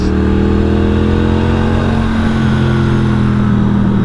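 A 2023 Norton Commando 961 SP motorcycle engine pulls in a low gear out of a road corner, a steady, loud, continuous engine drone with a slowly rising pitch and no talk over it.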